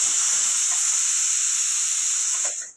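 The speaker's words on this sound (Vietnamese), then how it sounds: "Đó là mình xả thủ công để mình lấy cái nồi ra liền" Steam vents in a strong, steady hiss from the manual pressure release of a stainless steel induction pressure cooker, loud and close, holding constant before tapering off abruptly at the end.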